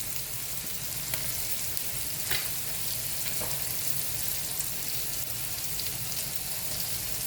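Green chili frying in hot oil while cooking a vegetarian curry, a steady close sizzle and crackle with a few sharper spits running throughout, no voices.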